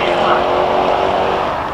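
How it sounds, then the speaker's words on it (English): A Jaguar F-Type Coupe SVR with a 5-litre engine roars along a hillclimb course, a loud sustained engine blare heard under a commentator's voice. "It's the 5-litre F-Type Coupe SVR."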